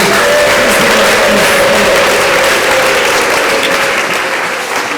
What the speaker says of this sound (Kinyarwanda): Turongeye tugukomeye amashyi tukuvugirije ubundi